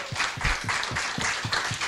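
A church congregation claps in steady rhythm, hands striking roughly every quarter second in a lively, moderately loud wave of applause with no voices over it.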